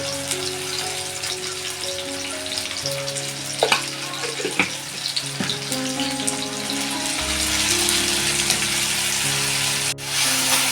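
Onion, garlic and chili fry steadily in a pan with a loud, continuous sizzle, broken by a few soft spoon clicks while they are stirred. No one speaks.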